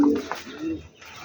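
Pigeons coo in low, soft, throaty murmurs close by, with a short rise and fall in a calm outdoor loft setting, a few overlapping calls and no talking.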